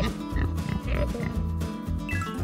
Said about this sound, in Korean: 꿀꿀꿀 돼지.